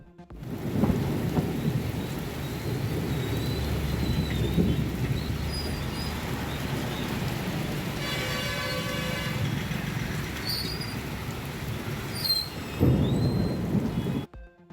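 Heavy rain pours steadily in Tamil Nadu while thunder rumbles low and long, swelling near the start and again toward the end.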